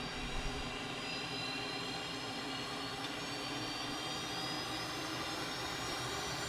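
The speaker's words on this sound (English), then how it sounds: "Does take the jet engines a minute to get spun up." The twin jet engines of a T-37 Tweet in Flight Simulator spool up on the runway before takeoff, a steady turbine whine with rising tonal pitch over a constant rumble, close and continuous.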